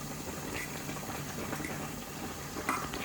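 A pot of bolognese sauce with mince simmering on the stove, a soft continuous bubbling and gurgling heard close but faint, with one slightly louder pop near the end.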